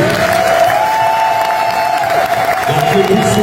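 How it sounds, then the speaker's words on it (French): A crowd applauds and cheers after a national ballet performance at a Congolese diaspora gathering in Brussels, a loud, continuous wash of clapping with a steady tone running beneath it. "sous vos applaudissements, bien entendu."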